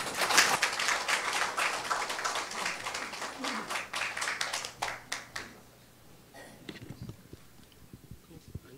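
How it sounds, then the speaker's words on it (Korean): Applause from a Korean debate audience welcoming the next speaker, several seconds of dense crowded clapping that thins into scattered claps and fades before a voice begins. "큰 박수로 환영해 주십시오."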